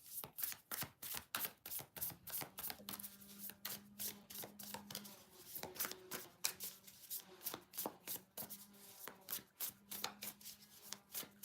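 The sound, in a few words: shuffling a tarot card deck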